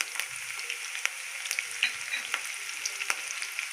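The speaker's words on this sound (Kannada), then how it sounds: "ಅದು ಸ್ವಲ್ಪ ಫ್ರೈ ಆಗಲಿ ಹಸಿ ಮೆಣಸಿನ್ಕಾಯಿ." Chopped green chillies with cumin fry in hot oil for a mandakki garmit, giving a close, steady sizzle with soft crackles and pops scattered throughout.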